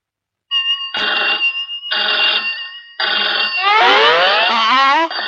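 A telephone rings loudly and close by in short repeated bursts, three separate rings followed by a longer warbling ring, with no talk over it.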